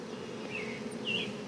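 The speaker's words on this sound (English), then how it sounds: "So the bees have already settled down." Honey bees buzz steadily around a queen cage in a hive, a soft continuous drone with a few individual bees passing close, faint and without talk.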